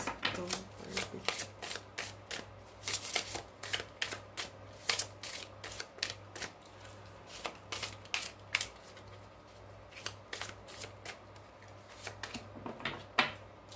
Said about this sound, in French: On va prendre une carte de l'oracle du voyageur sacré pour les béliers.